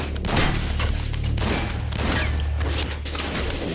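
Sustained gunfire from the video game Metal Gear Solid 4, a dense, steady fusillade of shots holding at a fairly even level for several seconds, with no talk over it.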